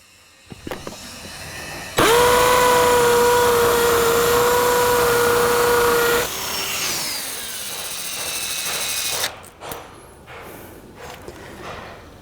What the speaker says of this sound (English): We were into a brand new concrete block in seconds.